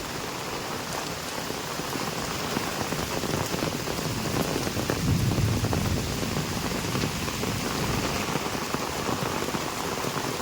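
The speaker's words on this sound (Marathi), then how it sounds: "एवढं पाऊस लागलो बघा" Heavy rain pours down steadily during a sudden unseasonal storm with strong wind in Konkan, a dense hiss of drops drumming on surfaces without letup.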